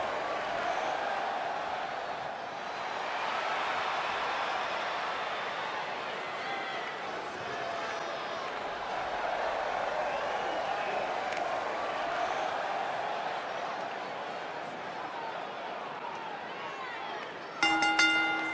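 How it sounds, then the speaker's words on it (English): Arena crowd in the video game WWE 2K20, a sustained murmuring roar of spectators that swells gently and runs throughout, with a brief sharp clatter at the end. "And the crowd here tonight still in awe over that great match."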